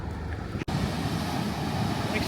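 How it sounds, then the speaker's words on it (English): Huge ocean waves roll and crash at Nazaré, Portugal, a constant loud roar of surf mixed with strong wind buffeting the microphone, with a brief dropout near the start. "The waves are huge here in Nazare"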